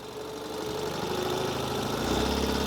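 A Ural Gear Up sidecar motorcycle ridden in first gear without its sidecar, its boxer engine a steady low rumbling drone with a throttle-driven rise in loudness and pitch toward the end.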